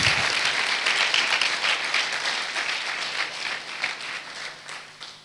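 An audience at a Pakistani church sermon claps in a sustained burst of applause that starts loud and slowly tapers off over several seconds, with no speech over it.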